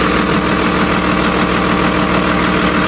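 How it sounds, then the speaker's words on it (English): Loud, steady Cummins diesel engine of a FedEx delivery truck idling up close, a constant rumbling drone with a rhythmic low knock and no pauses. "That sounds like a solid Cummins"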